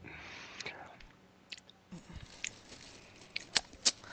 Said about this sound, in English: Are you chewing gum again?